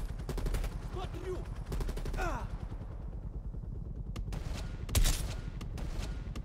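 Rapid gunfire bursts in the Black Ops Cold War video game, a shot blowing out a vehicle tire, with a sharp loud crack near the end over steady engine rumble and a voice.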